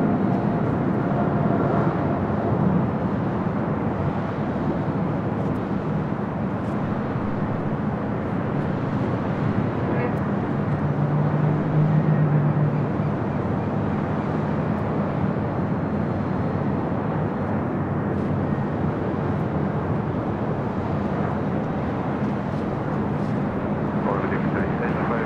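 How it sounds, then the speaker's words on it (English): An Eva Air Cargo Boeing 777 freighter takes off from runway 25 right, its engines a broad, sustained roar that fills the scene steadily at a distance. "Eva Air Cargo 777 freighter now rolling down to 25 right"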